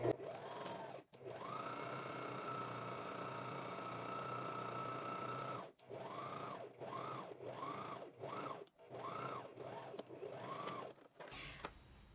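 A sewing machine backstitches at the start and end of a seam while sewing an invisible pocket: one long steady run of stitching, then a string of short bursts, each motor rev rising and falling, close and alone.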